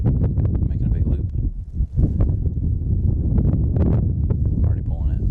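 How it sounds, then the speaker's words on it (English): Strong wind blows outdoors beside a stream during a fishing session, a loud, constant low roar buffeting the microphone with brief dips in force. "And the wind is blowing so hard."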